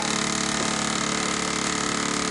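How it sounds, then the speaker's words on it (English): A small Midwest 4 model steam engine runs with a steady, dense hiss and a fast, even chuffing throb, loud and close throughout, with no voices. "But it's a neat little engine."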